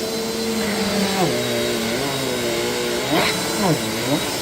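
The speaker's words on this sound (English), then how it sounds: "I have to get another vacuum now." An upright bagless vacuum cleaner runs with a steady whine that dips and rises in pitch as it is pushed, loud and close with no talk.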